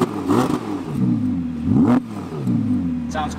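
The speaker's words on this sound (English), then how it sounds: "Give it a little blip." Audi V10 engine, pre-OPF version, blipped at a press event: a few quick close revs rising and falling over three seconds, with a low rumbling idle between bursts.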